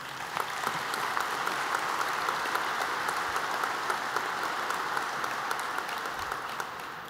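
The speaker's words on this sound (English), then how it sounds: "Please join me in giving them a round of applause" A room gives steady, dense applause for Camden city council members and the sheriff at a civic event, sustained for several seconds with no talk over it.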